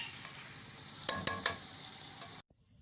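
Capsicum and minced meat keema with fresh coriander stirred in a frying pan, a steady sizzle broken by three sharp spoon clinks against the pan before cutting to silence.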